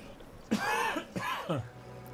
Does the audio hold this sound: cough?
yes